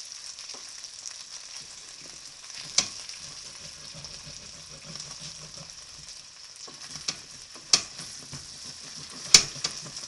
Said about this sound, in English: I'm just scraping the bottom so that nothing gets stuck